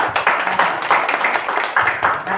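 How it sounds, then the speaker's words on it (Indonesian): A church congregation claps together in brisk, rhythmic bursts during a Sunday worship service, loud and close, with no voices over it. "Berikan tepuk tangan bagi Tuhan."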